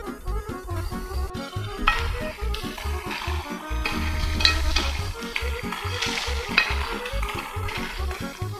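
Pieces of meat for Gagauz kaurma are stirred in a pot, with rhythmic scraping knocks of a spoon against the pot over a low sizzle, close and fairly loud, repeating steadily throughout.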